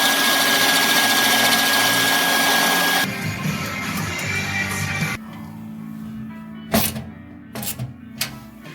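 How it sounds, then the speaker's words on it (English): A shop vacuum's loud, steady whooshing motor roars up close, then drops to a lower hum as a drill whirs through metal on a Mazda RX-7, with brief bursts of grinding as chips are sucked up. "I'm going to go ahead and drill this hole while I'm vacuuming at the same time"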